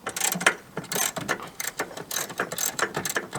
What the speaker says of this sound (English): I'm going to use a 13mm socket and an extension to get at it.